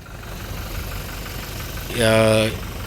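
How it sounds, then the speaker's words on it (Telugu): A 2022 Toyota Innova Crysta 2.4 V diesel SUV engine idles with a steady low rumble, then a brief bright harmonic tone rises over it near the end. "ఇంజన్ సౌండ్ మాత్రం పర్ఫెక్ట్ ఉంది"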